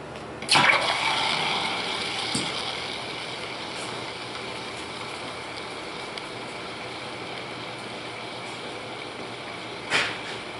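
A hot iron sponge from Caballo ore dropped into water, giving a sharp hiss and bubbling burst near the start that settles into a steady quieter sizzle, with another brief hiss near the end.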